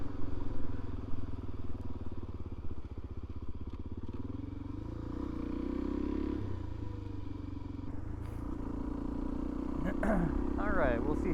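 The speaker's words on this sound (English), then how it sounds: "There sure is a lot of traffic on this highway though, off and on. Right now it's pretty busy." Steady highway traffic rumbles past a motorcycle rider wearing a dirt bike helmet with a Sony mic, a continuous engine and road drone with louder passing vehicles toward the end.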